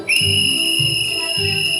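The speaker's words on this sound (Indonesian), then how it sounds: "serta ada lagi bunyi peluit" A shrill, steady whistle blast held continuously, loud and close, with a trilling flutter running underneath.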